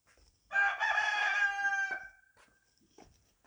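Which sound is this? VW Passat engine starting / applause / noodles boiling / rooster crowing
rooster crowing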